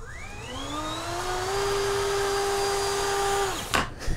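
A small 3D-printed hovercraft's fan spins up under remote throttle, its whine climbing steadily in pitch and then holding a loud, steady drone for about three seconds before cutting off with a brief clatter.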